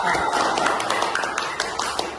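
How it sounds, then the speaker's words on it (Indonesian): Applause from a class of primary school pupils cheering a classmate, a burst of dense clapping with voices talking over it. "Beri tepuk tangan teman kita ini, Pak"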